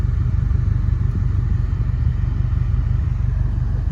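A 2022 Subaru WRX with a 2.4 liter engine idling in neutral, a steady low rumbling burble with an even pulsing beat, loud and close with no other sounds.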